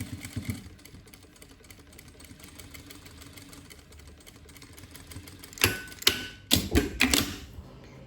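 Sewing machine stitching a seam on a towel: a quiet low hum for most of the stretch, then several short, loud mechanical stitching bursts near the end, fairly close.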